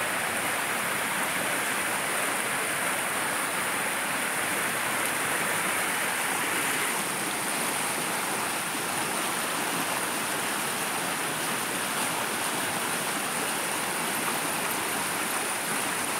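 Swollen muddy creek in flood after recent rain, rushing floodwater roaring steadily and loudly close by as a dense, unbroken wash of water noise throughout, with no talking.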